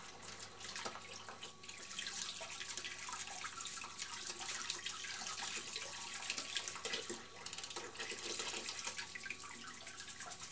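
Warm water runs steadily from a tap while a fishing reel is cleaned, a close, splashy stream with small bursts and trickles throughout.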